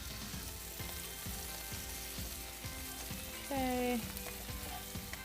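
Halloumi and chicken pan-frying together produce a steady, close sizzle with rhythmic crackling throughout, while a short tonal squeak rises briefly partway through and a voice speaks once.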